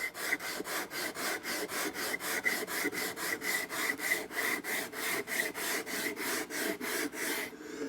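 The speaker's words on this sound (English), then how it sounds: "so this just gets cleaned up with sandpaper." Sandpaper rubbing over the wooden core of an archtop guitar neck in steady back-and-forth strokes, about three per second, close and fairly quiet with a rhythmic scratchy rasp and no talking.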